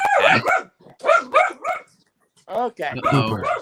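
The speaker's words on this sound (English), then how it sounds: "That's just my dog." A dog barks close by in a few quick bursts that are mixed in with people talking.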